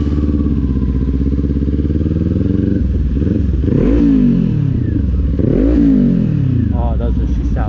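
A 2024 Kawasaki Z400 motorcycle engine runs steadily while riding, with a continuous loud drone that climbs in pitch through two throttle rises and then drops back, close and alone.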